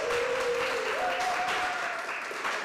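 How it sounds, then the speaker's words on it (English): An audience at a meeting gives a quick round of applause, steady moderate clapping with a faint tonal hum running underneath. "Can I get a quick round of applause for that?"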